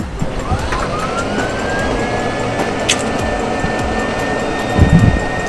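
A Lamborghini SVJ cold start: a high rising whine sweeps up and settles into a sustained tone over a loud, steady roar, with a sharp burst midway and low rumbling pulses near the end.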